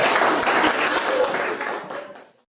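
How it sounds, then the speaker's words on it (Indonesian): Classroom of children clapping for their classmates after a movement song, a broad dense patter that holds steady, then thins and fades out near the end. "tepuk tangan buat teman-teman"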